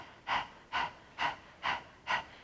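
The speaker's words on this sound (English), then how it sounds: "the breath of fire is when we open the mouth and stick out the tongue, the panting like a dog" Breath of fire in a Kundalini yoga class, panting through an open mouth: five evenly spaced sharp breaths, close and clear, with no talking.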